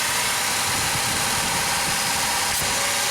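A Dodge Caravan engine runs at a high idle, a loud, steady mechanical drone with slight vibration heard up close, with no voices.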